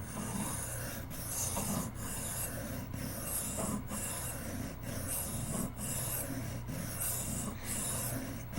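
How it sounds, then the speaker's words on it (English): A Camillus electrician's knife steel blade is ground to cut a new bevel, giving a rough rasping scrape repeated in steady strokes about once a second, close and alone. "What I'm doing is trying to grind quite a bit of steel"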